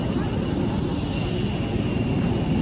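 Loud, steady roar of an airplane engine, a broad droning whine that holds constant and close without letup.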